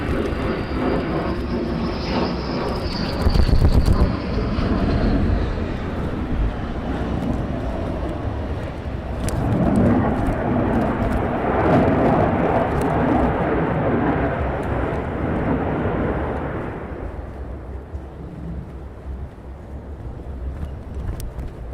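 Fighter jets flying low over Lakenheath air base on the downwind leg, a loud sustained roar that swells and then fades as they pass, with wind buffeting the microphone.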